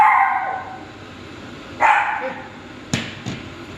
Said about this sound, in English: And the dog wants some attention.